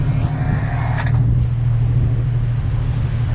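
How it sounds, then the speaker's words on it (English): An electric winch hooked up to a car pulls a boat onto a trailer in South Africa, giving a loud, steady motor drone that hums without a break throughout. "he's got a nice electric winch that he hooks up to his car"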